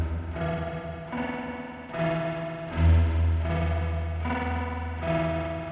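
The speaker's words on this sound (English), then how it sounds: "I think I've done a great job of capturing the spring boing in there." An electric guitar plays through the spring reverb of a Sonicake Matribox effects unit, with repeated strummed chords ringing out into a splashy, wobbling spring tail, close and clear with no talking.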